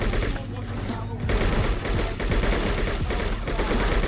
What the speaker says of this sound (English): I'm clearly shooting this guy.